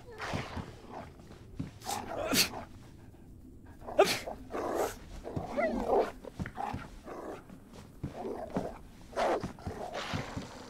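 A dog or wolf in the survival game DayZ barks and growls in several separate bursts, with someone talking over and between them.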